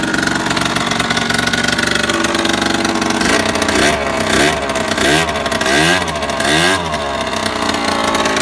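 A cold, flooded motorcycle engine runs roughly as its e-choke cuts in and out, the pitch lurching through repeated swells and dips at close range.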